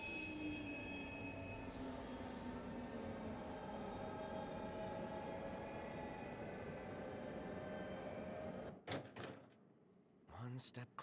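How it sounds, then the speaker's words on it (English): Train pulling into a station in Final Fantasy XV: steady rolling rumble with a long descending brake squeal, then abrupt clunks of doors opening near the end. "The train is now arriving at Cartanica Station."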